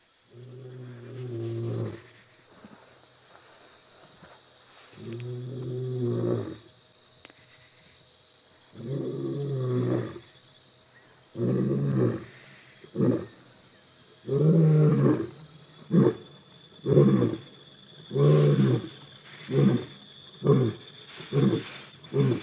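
A wild lion roars at night on a safari drive, a long series of deep grunting calls that start as spaced, drawn-out roars and quicken into shorter, closer-spaced grunts, loud and near over a quiet engine hum.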